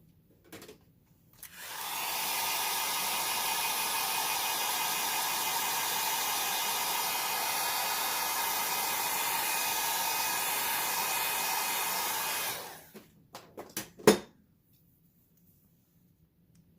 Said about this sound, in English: So at home you can use a blow dryer to dry it down a little bit